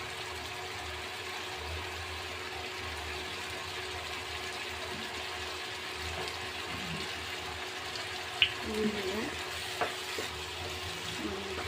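Chicken pasta in tomato sauce sizzles gently in a pan, a soft continuous frying hiss, with a few scraping stirs and small clinks toward the end, close and quiet, no talk.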